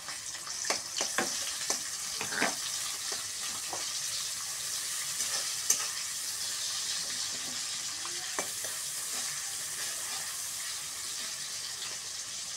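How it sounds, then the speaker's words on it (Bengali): Chopped onion frying in hot soybean oil gives a steady, dense sizzle, with occasional stirring clicks and scrapes, close and moderately quiet, no voices. "তেলটা গরম হয়ে গেলে আমি পেঁয়াজ কুচি দিয়ে দিই।"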